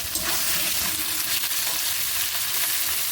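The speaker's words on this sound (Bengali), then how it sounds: "মাছটা এবার তেলের মধ্যে ছেড়ে দিলাম। একটু হালকা করে ভেজে নেব" Small chapila fish lightly frying in hot oil, a loud close sizzle with bubbling crackle that stays dense and constant from start to finish, alone without any talk.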